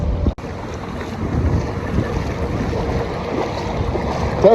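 A fishing boat rumbles steadily on open water amid heavy wind buffeting and a low wash of waves, with no one speaking.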